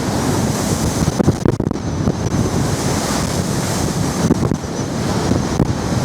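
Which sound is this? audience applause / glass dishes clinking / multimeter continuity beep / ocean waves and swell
ocean waves and swell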